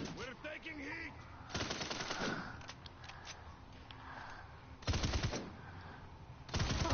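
Gunfire from a shooter video game cracks in loud rapid bursts, with several volleys spread across the moment and a voice talking faintly between them.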